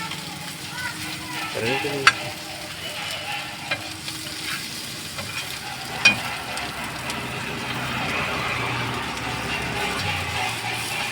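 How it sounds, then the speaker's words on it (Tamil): Goat brain frying in a pan, a steady close sizzle with stirring scrapes and a few sharp metallic clanks from the utensil against the pan. "இன்னும் கொஞ்சம் நல்லா வறுத்ததுக்கு அப்புறம் ஃப்ரை ஆகிடும்"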